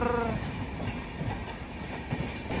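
Ahmedabad–Patna Humsafar Express passing close by, a steady loud rumble of rail cars with faint clacking wheels and a brief tonal squeal at the start, no voices.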